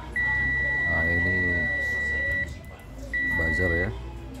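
Multimeter continuity buzzer on a MacBook Air 2015 board (820-00164, dead with a PP_BUS short) sounds a steady electronic tone while a fuse is checked: one long beep of about two seconds, a short gap, then a shorter beep, with someone talking over it.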